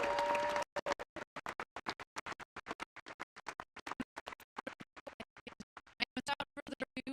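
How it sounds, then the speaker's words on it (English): Applause from an audience at a Blue Origin press conference after a New Shepard crewed flight, heard as clearly separated, rhythmic hand claps at close range with no talking, opening with a short dense burst. "Another round of applause."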